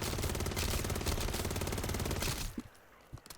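Sustained rapid automatic gunfire in MW3 Zombies, a dense, loud burst of bullets firing continuously for over two seconds before cutting off into a few scattered thuds.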